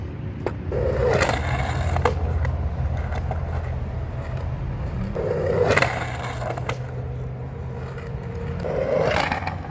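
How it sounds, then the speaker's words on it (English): Big skateboard wheels slide across blacktop in three loud, rough scraping bursts, each rising out of a steady rolling rumble, with no talking. "these wheels sliding on this blacktop, dude, they slide like they're on ice"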